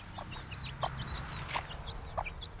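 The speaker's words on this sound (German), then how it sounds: "Auf dem Hof leben noch Zwergseiden-Hühner." Silkie bantam chickens cluck softly a few times at an even pace on a farm, with small birds chirping higher in the background over a low outdoor hum.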